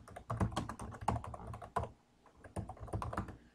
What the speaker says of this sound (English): So I'll type this in.